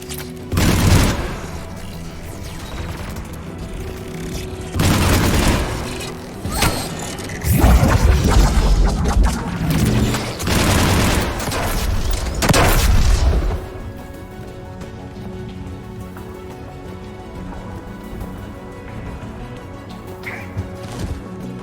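Anti-aircraft guns firing in the Mass Effect video game on Rannoch, loud sustained bursts of heavy fire and booms in several waves, then fading to a quieter mechanical hum.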